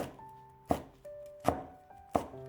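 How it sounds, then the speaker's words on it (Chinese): A knife chops small bird's-eye chili peppers into rings, giving three sharp, close knocks spaced under a second apart against a faint steady hum. "再准备几个小米辣切成圈"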